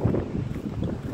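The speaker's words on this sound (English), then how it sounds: "So, it's very windy up here, got a bit of snow." Wind blows across a snowy mountainside on Czernica in Poland, a brief, steady low rumble buffeting the microphone.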